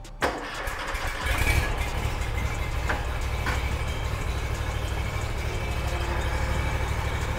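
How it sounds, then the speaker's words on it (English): Riding mower engine with a Hydro-Gear 5400 series hydro system, raised off the ground for bleeding, cranks and catches in the first moment, then settles into a steady, close, rumbling idle. "Now we want to run the mower in the air, and we're gonna bleed the system."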